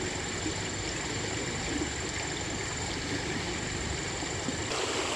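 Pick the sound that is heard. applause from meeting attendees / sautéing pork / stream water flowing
stream water flowing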